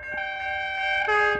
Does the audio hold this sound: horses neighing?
no